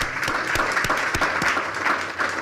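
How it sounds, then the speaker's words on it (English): An audience at a medical symposium applauds its speakers, a dense burst of steady clapping from many hands that holds for a couple of seconds, fairly loud and close. "could we give our speakers a really big round of applause?"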